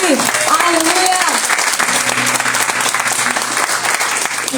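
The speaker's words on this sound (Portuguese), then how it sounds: "Você pode erguer as suas mãos e aplaudir a Ele." A church congregation applauding during a service, with dense, sustained clapping across the whole stretch and voices calling out over it.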